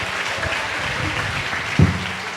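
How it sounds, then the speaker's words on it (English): An improv theater audience at a TEDx school event applauds in a brief burst of steady clapping, moderately loud and filling the room. "let's give a round of applause for Dingdong and Maliksi"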